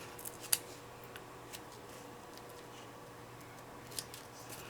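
Scissors snip through thick card for a handmade Santa flutter card: two crisp cuts, one early and one near the end, with quiet room tone between.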